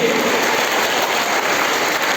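A classroom audience at an anti-drug motivational session claps together, a dense, even wash of applause held at steady loudness throughout, without talking.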